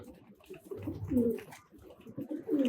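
A pigeon coos nearby in soft, repeated throaty phrases, quiet and alone.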